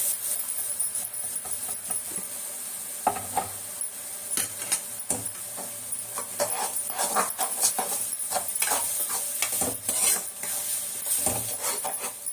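Tomatoes frying and being stirred in a pan for egg kuzhambu, giving a steady close sizzle with scattered scraping and clinking of a spoon against the pan, no talking.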